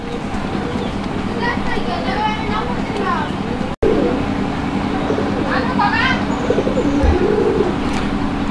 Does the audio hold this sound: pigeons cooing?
yes